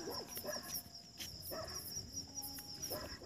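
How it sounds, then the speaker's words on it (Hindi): Dogs bark at night by a highway, a few short yelps at a moderate distance over a constant high chorus of crickets and insects. "कुत्ते भौंक रहे हैं"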